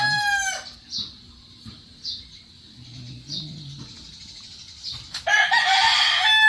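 A rooster crows loudly close by, then softer clucks and calls follow at intervals before another loud crow bursts in at the end.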